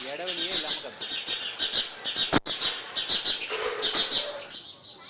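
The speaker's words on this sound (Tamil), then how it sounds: "இது ஸ்பேரோ தான், சிட்டுக்குருவி தான், இடைவெளியே இல்லாமல் கத்தும்." A house sparrow chirps steadily with hardly a pause, its repeated bright notes running through the whole stretch over a low background and a brief thump.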